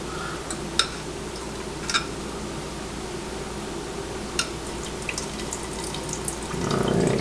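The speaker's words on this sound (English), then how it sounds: "I'm going to strain it into this pan and use it when I make my stuffing" Hot chicken oil and juices strained into a pan while cooking baked chicken, a low steady trickle and pour with a few faint clinks, close and fairly quiet.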